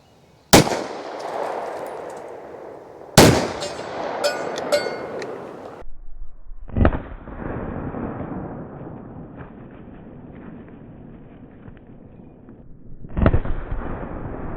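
A Canik TTI Combat 9mm pistol fires +P+ rounds into melons outdoors: two loud, sharp reports with echoing tails, then two further quieter bangs spaced apart, with no talking.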